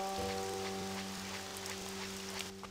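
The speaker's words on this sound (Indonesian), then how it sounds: "Tapi kenapa harus hujan ya?" Steady rain patters across the scene in a video game, a dense hiss of drops running beneath sustained tonal hums from the game's music.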